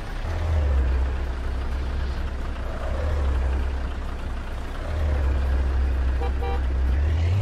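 Traffic in the truck-driving game Euro Truck Simulator 2 on a route from Riga to Tartu, with a steady loud engine rumble throughout and a faint car horn honking near the end.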